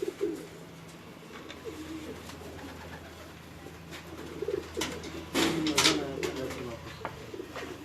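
Black-faced pigeons coo quietly in low, rolling calls, mixed with scattered clicks, rustling and wing-like flutters nearby.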